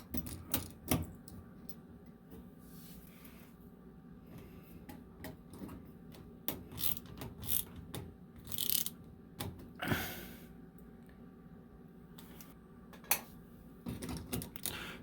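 A ground wire being fastened onto a screw while installing an appliance service switch, heard as close, faint clicks, ticks and small metallic scrapes scattered irregularly, with no talk.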